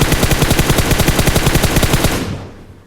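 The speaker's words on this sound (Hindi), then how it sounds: "मैं रैंडमली फायर देता हूँ कि अगर वो स्मोक में है तो उनको डैमेज हो" Rapid automatic gunfire from a mobile battle royale shooter game, fired blindly into smoke at squad enemies, rattles in a loud, evenly spaced burst of about two seconds before cutting off and fading.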